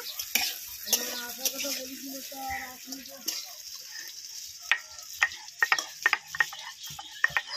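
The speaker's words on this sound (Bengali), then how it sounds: "এবার কড়াইতে তেল দিয়ে আলুগুলো ভেজে নেব" Potatoes frying in oil in a wok and being stirred, with a steady sizzle and scattered sharp scraping clicks from the utensil, mostly toward the end, while a voice talks over the first half.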